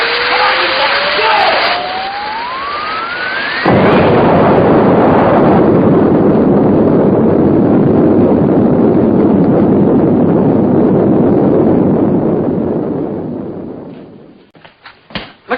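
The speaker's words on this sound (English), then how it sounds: "Looks like there's been some kind of an explosion over in Pelham Woods." Loud, sustained roar of an explosion in woods, preceded by a rising whistling fuse tone, then a broad rumbling blast that holds steady for about ten seconds before tapering off with a few sharp cracks.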